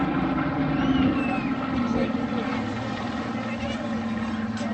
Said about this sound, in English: the blend of the two aircraft engines as they flew past our microphones